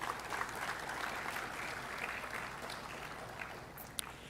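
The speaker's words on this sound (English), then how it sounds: "A huge round of applause," Audience applause at the inauguration of the Singapore India Hackathon 2023, a steady wash of clapping from a large crowd that holds throughout, moderately quiet and distant, with no talk over it.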